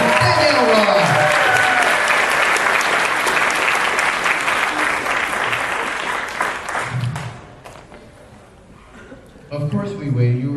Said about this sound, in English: Ladies and gentlemen, a round of applause for Lila Theronson, Danielle Ross.